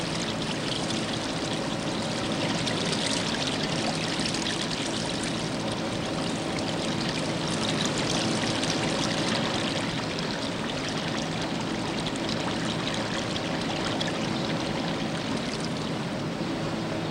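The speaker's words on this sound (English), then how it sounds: "You can stand and watch the river change color as dye wastes pour in." River water flowing steadily past textile dye mills while waste pours in, a constant broadband rush and trickle with no voices, even in level throughout.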